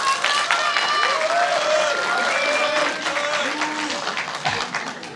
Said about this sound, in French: j'aimerais également qu'on puisse applaudir, s'il vous plaît